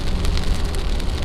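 Steady rain falling in rainy northwestern Ontario near Lake Superior, a dense, loud continuous patter of drops on surfaces, close and unbroken.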